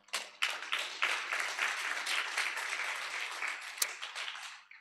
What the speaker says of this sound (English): A loud applause for them.